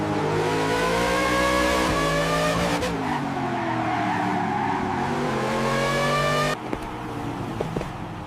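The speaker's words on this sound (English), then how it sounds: "These are some of the most modern race cars today." Modern race cars at a Dubai race track roar past loud and close, their engines holding a sustained whine that shifts in pitch, with tire squeal and a sudden drop near the end.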